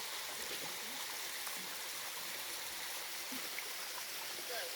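A waterfall roars as a steady, dense wash of rushing water, constant in level throughout, with no pauses or distinct splashes standing out.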